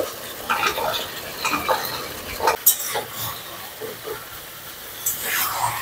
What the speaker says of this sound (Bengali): কুমড়োগুলো এর সাথে ভালো করে কষে নেব